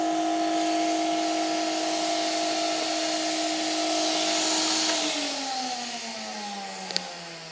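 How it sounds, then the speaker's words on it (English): A vacuum cleaner runs close by with a loud, steady whine as it sucks excess static grass off model railway scenery. Partway through, its pitch drops as the motor's load changes, then it drones on. "I can put on the vacuum now. It's going to get a little bit noisy."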